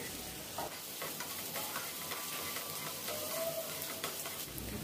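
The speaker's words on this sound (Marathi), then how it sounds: "बारीक चिरलेला कांदा, बारीक चिरलेला लसूण, व्यवस्थित परतून घ्यायचं आहे।" Finely chopped onion and garlic sauté in a pan, a steady soft sizzle broken by repeated stirring scrapes and crackles, heard alone without talk.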